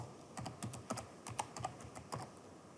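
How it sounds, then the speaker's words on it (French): Keys on a computer keyboard tap out a short irregular run of keystrokes as a server address is entered, close, soft and without any talking. "je tape l'adresse de serveur Greylog"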